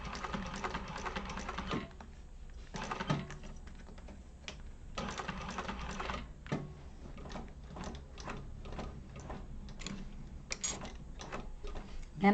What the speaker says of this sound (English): I'm hand cranking around those corners